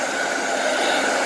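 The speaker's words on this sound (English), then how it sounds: "Just heat them up with a hairdryer." A hairdryer blows hot air onto the side panels of a Product Enterprise 12-inch radio-controlled Dalek toy, a steady, loud whooshing roar that holds even throughout with no talk.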